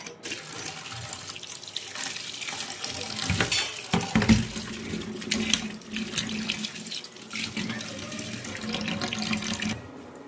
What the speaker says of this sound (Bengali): ছোট আলু পরিষ্কার করে নিয়েছি, এবার ধুয়ে নেব।